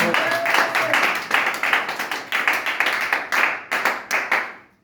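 Church congregation applauding the Lord, dense loud clapping with cheering voices mixed in, rising in waves and then thinning into scattered claps that fade out at the end.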